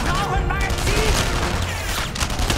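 Steady gunfire in the World War II shooter game Enemy Front, a dense, continuous crackle of shots with booming low rumble running throughout, with faint game voices mixed underneath.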